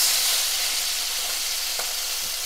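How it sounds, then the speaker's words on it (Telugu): Prawns, soaked in lemon juice, salt and turmeric, frying in ghee in a pan, giving a loud, steady sizzle with a few soft pops and stirring scrapes and no talk. "నానబెట్టిన పచ్చిరేలు ఇక్కడ నెయ్యి వేసి పక్క కళాయిలో వేపుతున్నానండి"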